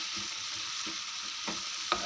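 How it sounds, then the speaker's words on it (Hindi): Cabbage frying in oil for a macaroni dish: a steady, bright sizzle runs throughout, with a few soft stirring knocks and one sharper clink near the end. "बंद गोभी को फ्राई करेंगे।"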